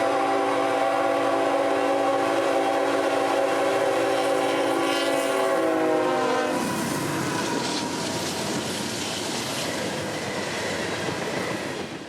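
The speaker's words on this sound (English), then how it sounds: "see this guy, symboled M457, with Florida Central's newly acquired SD40-2 in trail" Freight train M457 sounds a long, loud multi-tone horn chord, then its cars roll past with rumbling clickety-clack and wheel squeal, a close, continuous passing with an SD40-2 locomotive in trail.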